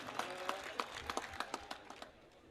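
Scattered applause from an audience at a poetry gathering, a dozen or so distinct claps at an uneven pace that thin out and fade toward the end, with no voices over them.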